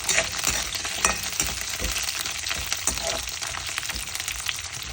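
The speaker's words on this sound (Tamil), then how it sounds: "கொஞ்சம் வதங்கட்டும்." Onion, garlic and curry leaves sautéing in hot oil for a Sri Lankan dried fish curry, a loud, continuous close sizzle with occasional stirring scrapes throughout.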